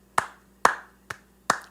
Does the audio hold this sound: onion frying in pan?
no